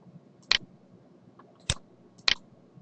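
A computer mouse gives three sharp, quiet right-clicks at uneven intervals, close up in an otherwise silent room.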